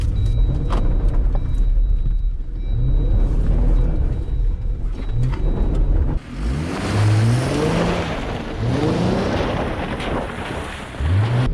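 A Jeep Wrangler Sport S accelerating hard in two-wheel high with traction control off, a loud engine roar that builds and surges through gear changes after a steady cabin hum, with wind noise.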